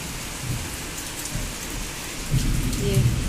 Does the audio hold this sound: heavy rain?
yes